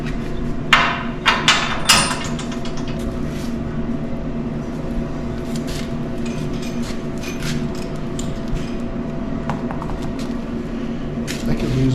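Heavy hammer blows driving a stubborn bolt into the frame of a C-30 crew cab truck during a C-notch job, a quick burst of loud metallic strikes early on, then scattered knocks over a steady workshop rumble.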